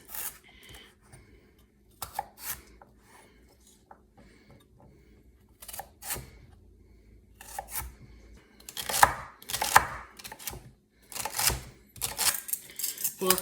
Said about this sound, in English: And I'll give it a dice.